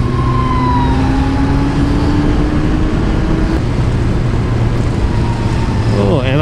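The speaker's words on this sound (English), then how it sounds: "Oh, and a third fire truck." A third fire truck goes by with a siren tone sliding downward over dense traffic and engine rumble, and a quick warbling siren burst near the end.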